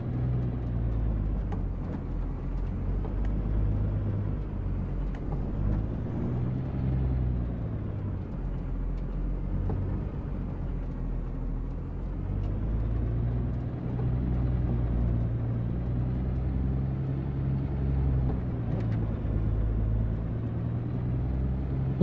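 A Kenworth W990 truck in American Truck Simulator pulling away in first gear, with a steady deep engine rumble and low drone rising gently as it gets moving, heard alone.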